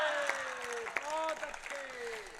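An audience claps during a Hindi comedy parody performance, with scattered, uneven claps under a man's sung and spoken voice.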